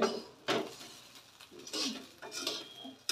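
Rice for vegetable pulao frying in a pan in a home kitchen, a spatula scraping and clattering against the metal in several uneven bursts of stirring, fairly close and moderately quiet, with no talk.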